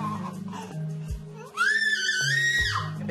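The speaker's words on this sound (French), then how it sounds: "Arrête de crier" Young girl screaming in a loud, sustained high-pitched wail that rises and holds for about a second and a half, preceded by shouting and adult voices in a noisy family home.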